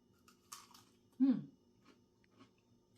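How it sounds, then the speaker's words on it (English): Crispy fried crab rangoon bitten and chewed close up, a sharp crunch in the middle with a few softer crunches and faint chewing around it. "Did you hear the crunch?"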